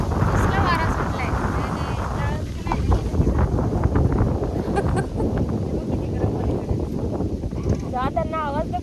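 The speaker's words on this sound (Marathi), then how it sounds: "एकदम भारी हवा सुटली इथे" Strong wind gusts buffet the microphone outdoors on a village farm, a loud steady roar throughout, with family voices and someone talking faintly over it.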